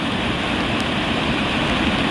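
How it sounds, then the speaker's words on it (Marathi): Rain falling at night by a river during fishing, a dense steady wash of rushing noise, loud and unbroken with no voices. "पाऊस पण पडतोय, बघू शकता"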